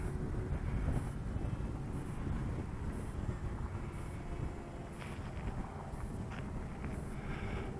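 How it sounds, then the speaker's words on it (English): Wind gusts outdoors at a flying field for a large electric RC ultralight model, a steady low buffeting rumble on the microphone throughout with no pauses and no talking. "It's a little windy"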